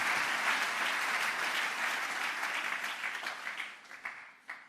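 A church congregation applauds and cheers during a worship service, sustained dense clapping that gradually thins and fades toward the end, with a few scattered louder claps.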